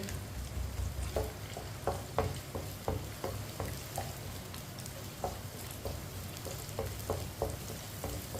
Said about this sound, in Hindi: प्याज को इसी तरह चम्मच चलाते हुए ब्राउन करना है